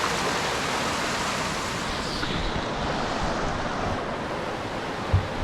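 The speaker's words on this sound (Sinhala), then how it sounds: "ඇහෙනවද දන්නේ නැහැ වතුර පාර ශබ්දයට" A mountain stream rushes steadily near a tent pitched among the Knuckles peaks in Sri Lanka, a dense, even wash of flowing water heard close by with no voices.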